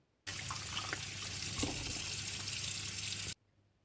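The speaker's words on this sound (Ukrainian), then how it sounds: "Проварене м'ясо викладаємо в миску і промиваємо водою." Boiled pork head and hock meat rinsed in a bowl under running tap water, a steady close hiss of the stream with faint splashes for about three seconds, no voices.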